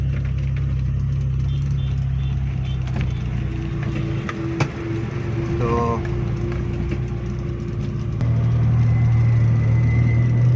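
A Suzuki Khyber pickup's engine drones steadily as the vehicle climbs a hill under light throttle, a low continuous hum with a brief rise in pitch partway through, while someone talks over it.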